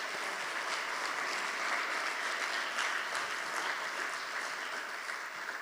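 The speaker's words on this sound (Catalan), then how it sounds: "voldria que un fort aplaudiment per tots ells" An audience at a round-table event in Girona gives sustained applause for a fourteen-person organizing team and volunteers, dense, even clapping holding steady at a moderate level throughout.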